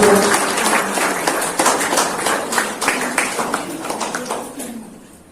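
An audience at a school felicitation ceremony for top-ranking students claps in a dense round of applause that starts full and gradually thins and fades over about five seconds.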